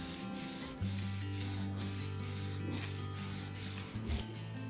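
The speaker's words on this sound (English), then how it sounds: "so I used this Scotch-Brite pad to put the grain back in" Close, quiet scrubbing as a Scotch-Brite pad is rubbed across the brushed steel back of a Casio Data Bank watch, a series of short rasping strokes over a constant background hum.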